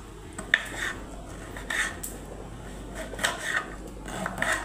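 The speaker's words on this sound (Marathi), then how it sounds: "आपण खोबरं कापून घेऊ." Soft rasping and scraping strokes of a knife cutting through coconut, a few irregular cuts close by, quiet and without speech.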